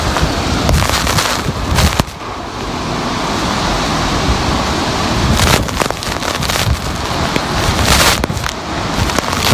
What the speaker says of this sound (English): There's another very strong gust.